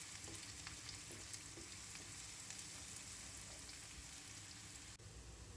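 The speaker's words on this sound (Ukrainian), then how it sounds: "морквою цибулю смажу." A steady, close sizzle of onion and carrot frying in a pan, with a few faint stirring scrapes and no voices.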